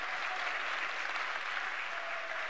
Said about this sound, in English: And so just clap your hands.